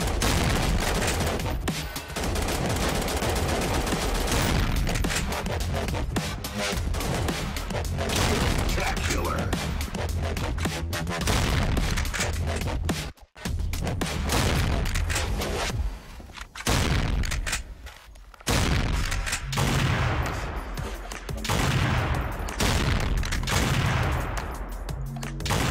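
Dense, continuous gunfire from an online shooter video game pours out loud and close for most of the stretch, with brief dips and a short gap midway, then sustained bursts resuming.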